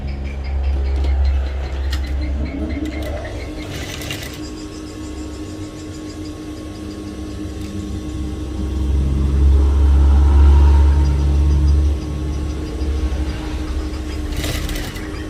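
A sewing machine stitches the front placket of a baju koko, running as a steady low mechanical whir with a couple of louder, faster stretches.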